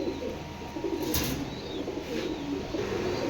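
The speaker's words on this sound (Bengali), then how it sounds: "বাইরে কবুতর ছটপট করে" Pigeons coo softly outdoors in a low, rolling murmur with a brief wing flutter near the middle, heard against steady ambient noise and no talking.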